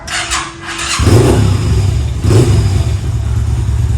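A Kaisar Ruby 250 V motorcycle engine cranks briefly, catches with a loud burst, and settles into a steady, throaty idle close by.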